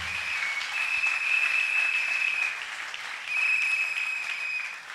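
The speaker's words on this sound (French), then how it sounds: "Acclamons le Seigneur." A church congregation applauds in two swelling waves, the clapping mixed with sustained shrill, high tones, fairly loud and with no talk over it.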